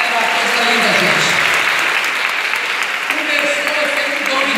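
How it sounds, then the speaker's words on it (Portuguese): Congregation applauding in a church, a dense, loud, steady wash of clapping from many hands that continues throughout, with a voice speaking faintly beneath it. "Vamos aplaudir a fé dele."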